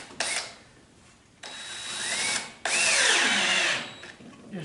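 A cordless power drill driving small roofing screws into wood outdoors: a short burst, a pause, then two longer whirring runs that rise in pitch under load, loud and close with no talking.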